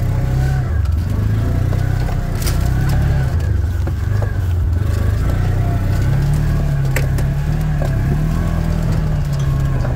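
A Kubota Sidekick RTV XG-850 utility vehicle drives through Wisconsin snow in low gear, its engine droning steadily and loudly throughout with slight rises in pitch, with faint bird chirps in the background.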